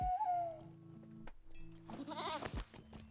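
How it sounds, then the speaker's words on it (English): A battle goat in Lord of the Rings Online bleats once, a short wavering cry over game music, loud and close, with no talk. "There's the Elder Slate battle goat."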